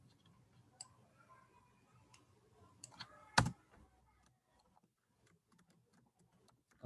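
Sparse computer keyboard key clicks while React code is typed, quiet taps scattered across the span with one sharper, louder clack near the middle.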